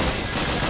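Rapid MP40 submachine gun fire in Call of Duty: United Offensive, a dense, loud burst of shots in a short, unbroken stretch.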